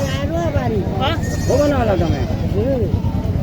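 Goats bleating at a livestock haat in Naogaon, three or four loud, close wavering bleats over crowd noise and nearby voices.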